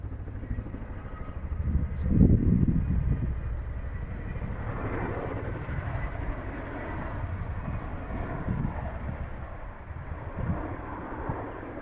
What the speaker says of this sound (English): There's a chinook. See it just behind the oak tree.